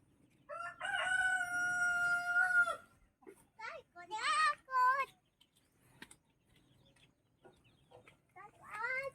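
A heritage chicken crows loudly and clearly at close range, one long drawn-out crow followed by shorter broken calls and clucks, with more crowing starting at the end over a quiet barnyard background.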